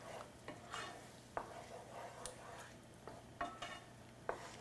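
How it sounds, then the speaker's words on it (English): Coconut, garlic and shallots are stirred in a pan for a Thai curry, a faint background hiss broken by a few sharp utensil scrapes and taps at irregular intervals, with no talking. "Just make sure you continuously stir. So you're cooking the coconut."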